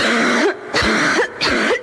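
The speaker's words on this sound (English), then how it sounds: "Yet the big jarring cough" A child gives three loud, harsh coughs in quick succession, each a burst of rough noise with short gaps between, close and clear with no talking.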